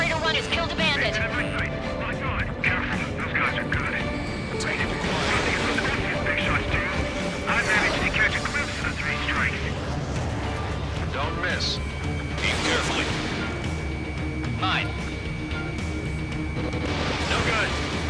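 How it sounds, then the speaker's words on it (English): Missile explosions and crashing booms in the aerial combat video game Ace Combat 7 land in bursts amid roaring jet noise, loud and layered under frequent radio chatter and talking. "Missile hit."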